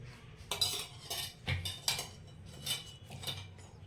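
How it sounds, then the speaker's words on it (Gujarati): Wheat flour being mixed with oil for spicy puri dough, with a metal utensil clinking and scraping against a bowl in a series of close, irregular strokes. "આ રીતના મિક્સ કરી દઈશું. લોટને બરાબર મોઈ કાઢીશું."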